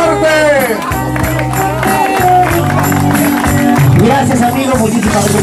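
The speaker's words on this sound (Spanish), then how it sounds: "¡El aplauso fuerte!" A crowd applauds and cheers for a street comedy troupe's performance, loud clapping and whoops blended with music and voices over the top throughout.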